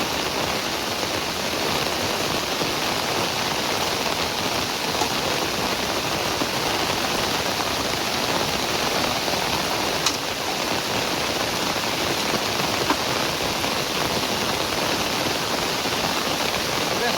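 Heavy rain pours down steadily over a village, a dense unbroken hiss that holds level throughout with no voices.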